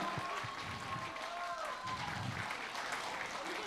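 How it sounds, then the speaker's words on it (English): A large crowd applauds and cheers at a Pushpa 2 film success celebration event in India, a dense continuous roar of clapping with whistles and a voice or two rising above it. "Please, big round of applause for Alu Arjun sir"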